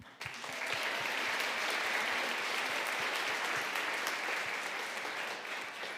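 A concert audience gives a steady round of applause for soloists at a Broadway-themed show in Broomfield, many hands clapping continuously at moderate level before fading out.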